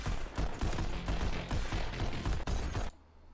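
Rapid gunfire from the VR shooting game Pistol Whip fires in a steady rhythm of loud, sharp shots, timed to a backing music beat, then cuts off abruptly near the end.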